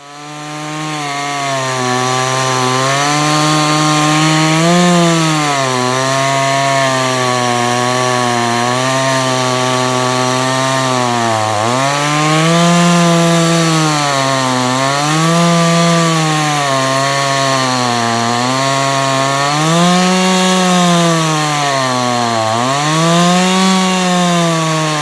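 A Holzfforma G288 chainsaw mills wood, roaring loud and close without a break, its pitch dipping and rising in regular waves as the cut loads and frees the engine.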